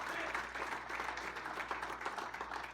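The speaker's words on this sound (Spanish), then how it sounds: "Den un aplauso al Señor por su fidelidad." Church congregation clapping in praise during a worship service, a steady, fairly faint patter of many hands at a distance, with a low hum beneath it.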